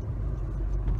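A car's engine and road noise heard from inside the cabin while driving, a steady low rumble that is close and constant, with no voices.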